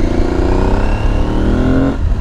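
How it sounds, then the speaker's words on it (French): Motorcycle engine revving loud and close while riding on a rough road, its buzzing note climbing steadily in pitch before easing off at the end. "il se réveille le moteur, tu as le bruit"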